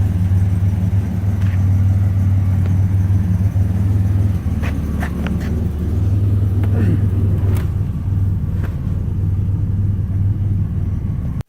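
A 1989 Pontiac Turbo Trans Am engine idles close by with a low, uneven loping rumble, a few sharper clicks and knocks rising over the steady throb.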